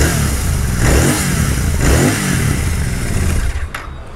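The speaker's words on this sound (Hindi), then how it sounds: "और इसके रियर से मैं आपको इसका एग्जॉस्ट साउंड सुनाता हूँ।" A Royal Enfield Continental GT 650 twin-cylinder motorcycle with twin exhausts revs up close by in repeated throttle blips, rising and falling over a steady engine rumble before easing off at the end.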